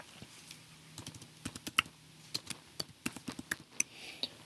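Crisp keystrokes tapped on a Mac computer keyboard while entering a terminal command, arriving in quick irregular bursts with short pauses, close and fairly quiet, with no voice.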